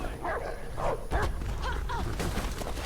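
Dogs bark and yip repeatedly in the Beyond: Two Souls video game, sharp bursts spread across the moment at close to moderate distance over a steady background hum.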